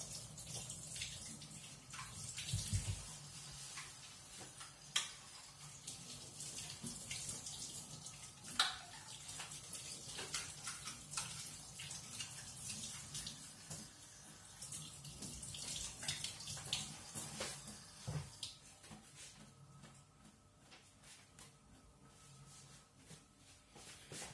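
Water runs steadily from a tap while a meat grinder nozzle is washed for homemade merguez, a continuous splashing rush with occasional clunks of metal against the sink.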